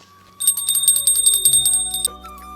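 A small hand bell rings rapidly and continuously during a morning puja, bright metallic strikes close and loud for about two seconds before stopping.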